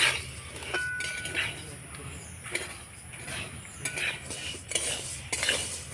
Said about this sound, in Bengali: চার থেকে পাঁচ মিনিট আমি খুব ভালো করে নাড়াচাড়া করে নিয়েছি